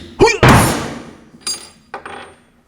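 A hammer strikes a center punch on metal in a workshop, marking a hole position for drilling: one sharp loud impact, followed by a few fainter knocks and clunks.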